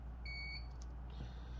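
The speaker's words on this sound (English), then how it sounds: "That beep just lets me know that they're warmed up." Hakko FM-2023 soldering tweezers give a short electronic beep as they finish warming up, a couple of quick high tones over steady low workshop hum.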